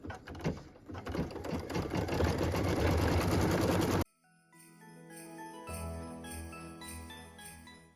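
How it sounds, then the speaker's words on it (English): A computerized embroidery machine stitches white brick detail on a Christmas house ornament, a loud steady rapid whirring hum for about four seconds, then a quieter softer mechanical running after a brief drop. "So we'll go ahead and let it stitch that out now."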